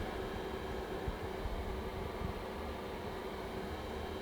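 Inwin B1 PC case with its included 80mm fan and power supply fan both running at 100%, giving a steady, broadband whooshing hum that holds level throughout with no talking.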